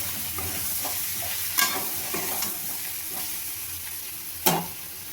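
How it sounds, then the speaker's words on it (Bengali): Vegetables frying in a pan with turmeric and coriander powder, a continuous close sizzle broken by scraping stirs and a few sharp spatter pops. "হলুদ গুঁড়ো আর ধনে গুঁড়ো দিয়ে আমি সবজিটাকে আবার ভালোভাবে ভেজে নেব"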